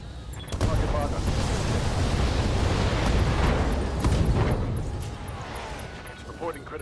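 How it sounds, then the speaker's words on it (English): Mech weapons fire at an enemy from behind in the BattleTech video game, a dense, loud, continuous rumble of blasts and booms lasting several seconds before tapering off. "I am in your rear arc, and I will be shooting you down now"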